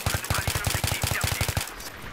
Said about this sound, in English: Amazing tap fire there.